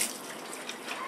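Warm water runs from a tap onto a washcloth in a brief, close, steady splashing rush, heard alone.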